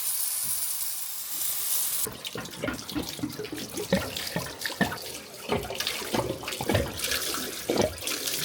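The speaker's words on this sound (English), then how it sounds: "And here's the leak that's been killing me." Water runs and splashes from a leaking hot water tank in a steady hiss, then breaks into irregular drips and spatters close by, with no voices.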